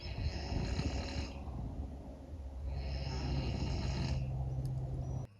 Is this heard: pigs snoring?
yes